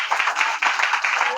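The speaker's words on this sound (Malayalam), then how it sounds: "ഒന്ന് കൈയടിച്ചേ" An audience clapping for a student at a study materials distribution event, a brief burst of quick, close hand claps in an uneven rhythm, fairly loud and lasting only a moment.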